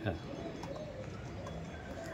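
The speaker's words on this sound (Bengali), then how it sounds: "এবার দেখাচ্ছি গিরিবাজ পায়রা।" Giribaz pigeons, a breeding pair of a fancy Bengali flying breed, coo softly and repeatedly in a loft, with a voice talking over them and steady background noise.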